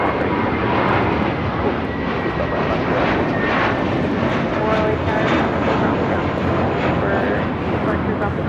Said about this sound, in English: This is Una Nueva Mentalidad taking off to Miami, Florida on this JetBlue A321 flight 2885.